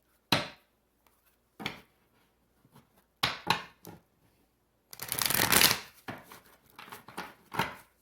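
Tarot cards being shuffled and riffled in several quick bursts, with one longer riffle in the middle and crisp slaps between, close up.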